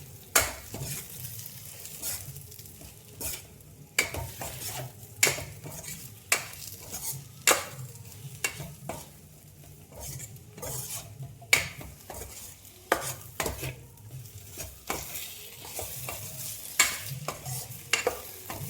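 Eggplant fry sizzles in a pan on the stove while a metal spoon stirs it. Repeated sharp scrapes and clinks against the pan come at an irregular rhythm, close and fairly quiet, with no voices.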